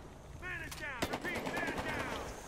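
Gunfire in the video game Battlefield Hardline, a sharp burst of shots cutting through a player's excited talk, quiet overall and mixed with game sounds.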